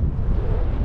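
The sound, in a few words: strong wind at Reykjavik harbour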